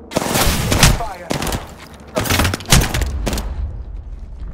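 Dense bursts of automatic gunfire from the video game Apex Legends, loud and close, with heavy overlapping shots and booms rolling on throughout.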